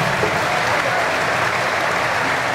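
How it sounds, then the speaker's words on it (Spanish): A concert audience applauds an orchestra, a dense, continuous clatter of many hands clapping that stays loud and even from start to end with no voices over it. "Un aplauso para la Epic Symphonic Orchestra"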